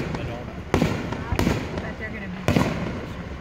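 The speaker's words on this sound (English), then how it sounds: "The Memphis fireworks here and our fireworks in Winona." A fireworks display in Stoughton, with sharp booming bursts at irregular intervals and crackling between them, heard under nearby crowd chatter and people talking.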